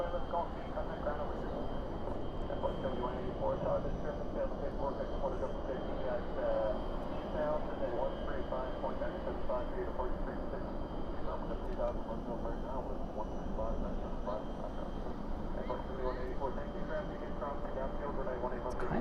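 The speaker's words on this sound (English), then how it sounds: "Number 2 for arrival is the UPS flight coming in from El Paso" A UPS cargo plane arriving from El Paso approaches DFW airport at night, heard as a faint, distant, continuous engine drone that holds steady throughout.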